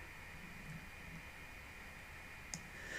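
Faint, sparse mouse clicks sound against a steady background hum while a 3D print model is prepared on a computer for an Anycubic Photon S resin printer, with one sharper click standing out near the end.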